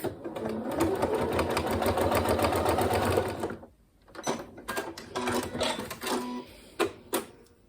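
A sewing machine stitches through pencil case wadding in a fast continuous run, then stops and restarts in several short bursts, close and clear with no talk.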